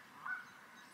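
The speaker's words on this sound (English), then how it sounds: "You can hear the geese honking." Geese honk from a distance at a lakeside camp, one brief faint call rising over a steady outdoor hush.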